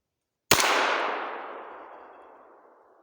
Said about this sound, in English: we're going to fire off my very first rounds out of this pistol